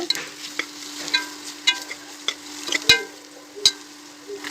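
Onion and masala sauté in a pan for beef gravy: soft sizzling under repeated scraping spoon strokes and occasional sharp clinks against the pan, close and steady.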